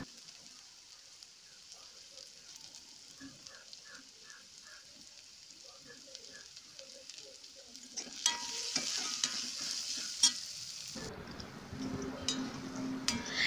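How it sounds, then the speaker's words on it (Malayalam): Stirring and sautéing tomatoes, green chilies and curry leaves in a frying pan with an egg dish, a soft scraping and sizzling that swells into a louder, dense crackle partway through; no talking. "ഒരു ഗോൾഡൻ കളർ ആവുന്ന വരെ, ബ്രൗൺ കളർ മാറുന്ന വരെ ഒന്ന് ഇളക്കി കൊടുക്കുക."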